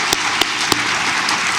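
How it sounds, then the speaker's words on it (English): Library event audience applauding together, a steady dense wash of many hands clapping with a few sharper louder claps standing out near the start. "There you go, clap for yourself."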